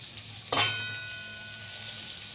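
Shredded cabbage drops into a hot pan of oil with onion for Hakka noodles, a sudden loud sizzling burst that settles into a steady frying hiss.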